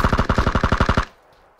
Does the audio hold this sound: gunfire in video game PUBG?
yes